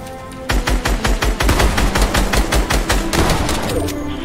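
Rapid bursts of automatic gunfire in Fortnite, sharp repeated shots in a steady fast rhythm, loud and close, with no talking.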